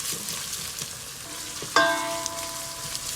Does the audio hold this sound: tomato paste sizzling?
yes